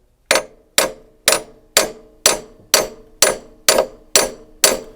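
Ten evenly spaced metallic strikes of a small hammer on an expansion tank, each a sharp, ringing clang that decays quickly, loud and close with no talk.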